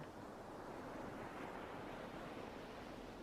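Ocean surf rolls in a soft, continuous wash with steady broadband hiss and a gentle swell, faint and distant, with no voices over it.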